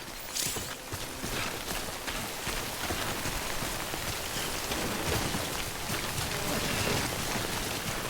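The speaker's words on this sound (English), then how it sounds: "Good thing it was raining." Steady rain falling in the video game Death Stranding, a dense continuous patter on surfaces with scattered heavier drops, loud and even throughout.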